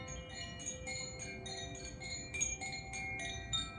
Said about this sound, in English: I'll be using my Koshi bell for Shavasana